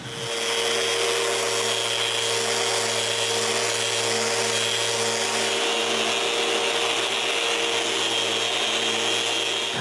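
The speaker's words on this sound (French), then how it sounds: "puis je peux faire le dernier sablage des 2 panneaux" A power sander runs steadily and loudly for about ten seconds on two wooden vanity panels, a continuous droning hum with a hiss of abrasive on wood, no pauses or voices.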